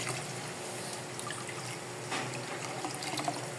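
Water from a pitcher trickles and pours steadily into a cooking pot, a soft continuous splashing at moderate distance with no voices.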